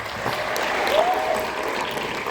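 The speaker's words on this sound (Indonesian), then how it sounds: "Tepuk tangan dong buat Anda." Audience applause at an Indonesian conference, a continuous moderate clapping that holds steady throughout, with no voices clearly over it.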